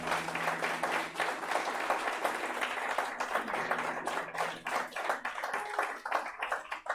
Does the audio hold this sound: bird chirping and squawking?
no